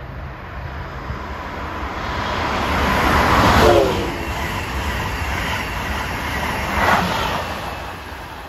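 Amtrak train 2151, a Boston–Washington service, rolls past on the rails in Bucks County, Pennsylvania, a steady broad rumble swelling to a peak midway with a faint horn-like tone, then easing but still present.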